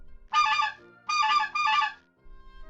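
A goose in an animated fairy tale gives three loud, clear honks: one short call, a pause, then two quick calls close together, with no talk over them.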